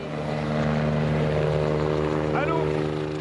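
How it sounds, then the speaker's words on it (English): A rescue helicopter flies over a flooded area, its steady droning rotor and engine noise filling the background continuously while a voice talks over it. "Helicopters are providing the only way out here."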